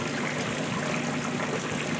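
Water pours steadily into the tub of a 2024 GE top-loading washing machine during a normal cycle, a constant close rushing hiss with no pauses or talk.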